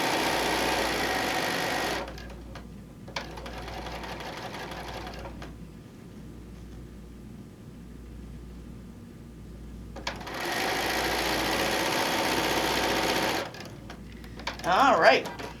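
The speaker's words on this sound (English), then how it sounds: "we're gonna sew down" A sewing machine stitching a quilt seam runs in two loud bursts of rapid mechanical whirring separated by a quiet pause, with faint handling noise and a brief voice near the end.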